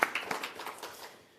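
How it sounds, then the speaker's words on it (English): A round of applause at a business breakfast after a State of the Province address, heard as a short, fairly faint burst of clapping that fades out within about a second. "Let's give her one more round of applause"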